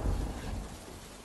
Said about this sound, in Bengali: বাইরে তখন ঝমঝম করে বৃষ্টি পড়ছে, তার সাথে বয়ে চলেছে ঝোড়ো ঠান্ডা বাতাস।